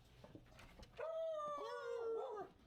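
A dog lets out a loud, drawn-out howl that wavers and rises into a whimpering whine, following some quieter scuffling noises, heard up close with no talking.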